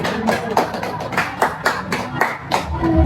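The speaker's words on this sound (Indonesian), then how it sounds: "Tepuk tangan dulu untuk temannya." A classroom group of students clapping hands for a classmate during a careers guidance session, quick uneven claps close by, with some voices mixed in.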